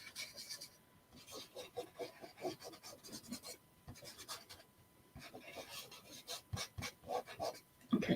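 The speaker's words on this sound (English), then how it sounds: "I'm just going to burnish these back down" A chalk transfer stencil is burnished down onto a wall hanging, giving close, quiet scratchy rubbing strokes in irregular bursts, with short pauses between passes.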